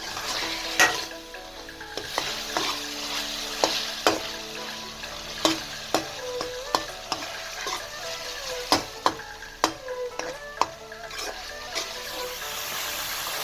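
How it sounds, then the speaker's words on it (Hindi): Meat browning with tomato in a pot for shaljam gosht, a steady close sizzle and hiss broken by repeated scraping and clanking strokes of a spoon stirring through the mixture. "अब अच्छे तरीके से गोश्त को भूनना है। टमाटर जो है अच्छे तरीके से मिक्स हो जाए।"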